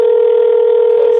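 A loud, steady telephone tone sounds after a caller hangs up on a scam call. It is a continuous, unbroken hum filling the whole clip with no other sound.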